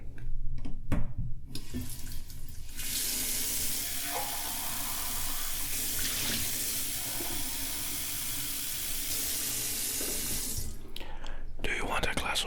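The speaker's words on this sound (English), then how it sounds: "enjoy the sounds of getting a glass of water." Tap water runs steadily into a glass in a quiet room for about eight seconds, a close, even hiss with a slight rise in pitch as the glass fills, framed by soft handling noises before and after.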